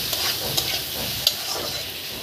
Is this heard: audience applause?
no